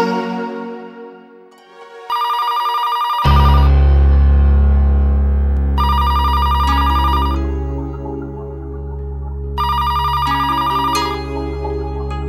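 Electronic telephone ringtone chiming in three repeated bursts over a sustained musical background while a woman places a call, with no talking during the rings.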